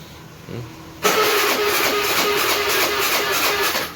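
A motorcycle engine is kick-started, with a soft thump just before the engine catches abruptly and settles into a loud, steady running drone close by.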